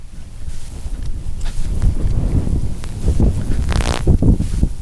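Strong crosswind buffeting the microphone outdoors at a radio-controlled model airplane field, a continuous low roaring rumble with gusty swells and no talking.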